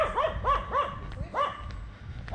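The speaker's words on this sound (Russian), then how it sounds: "Первая собачка, которая загавкала на меня в Лазаревском." A small dog barks at a passer-by in Lazarevskoye, a series of five or six close, sharp, yappy barks in quick succession, then it falls quiet.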